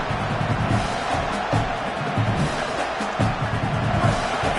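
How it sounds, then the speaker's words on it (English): Stadium crowd roars during a college football playoff game between Notre Dame and Michigan, a dense, sustained wash of cheering and noise throughout, with no commentary over it. "This crowd is trying to inspire this defense to make a big red zone stop."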